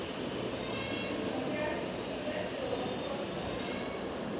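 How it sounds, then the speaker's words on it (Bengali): A train in a Roblox video game gives a quiet, steady rumble throughout, with someone talking over it. "ট্রেন"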